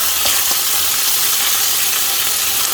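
Butter hissing and sizzling in a hot pan with meat for çökertme kebab, a steady bright frying crackle that stays loud and even throughout, with no talking.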